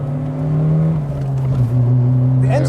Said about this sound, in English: The engine sounds pretty nice.